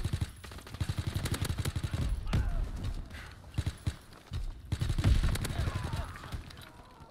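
Call of Duty WW2 gameplay with bursts of rapid automatic gunfire, close and loud, stuttering in quick volleys between pauses as someone talks over the action.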